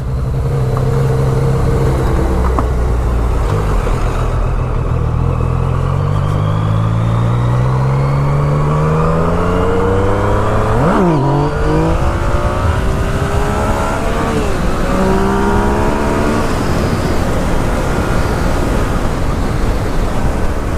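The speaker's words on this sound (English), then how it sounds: "when you're riding on the highway with this thing and you're going normal speeds, normal highway speeds, the bike feels just awesome" A Yamaha FZ-09 850 cc street motorcycle riding on a highway, its engine loud and close, rising in pitch through the gears, dropping sharply on a shift and climbing again under steady wind rush.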